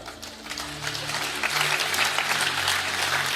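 Audience applause at a motivational talk on success and management: a steady wash of clapping that holds throughout, fairly close and loud, with a faint low hum beneath.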